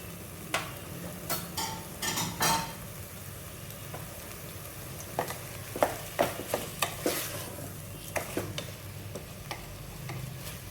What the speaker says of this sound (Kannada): ಆಮೇಲೆ ಬಿರಿಯಾನಿ ಪುಡಿ, ಕಸ್ತೂರಿ ಮೆಥಿ ಹಾಕ್ಕೊಂಡು ಸ್ವಲ್ಪ ಮಿಕ್ಸ್ ಮಾಡಿಕೊಂಡು